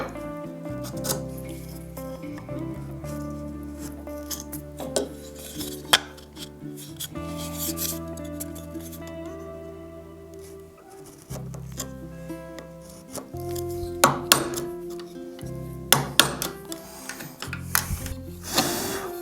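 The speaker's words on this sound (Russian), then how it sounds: "Ну и пропиливаем точно как полупотайной ласточкин хвост, и лишнее вырубаем стамеской." A semi-blind wooden dovetail joint being sawn and chiseled by hand: repeated close rasping saw strokes mixed with sharp chisel knocks and taps, loud and irregular, with no talking.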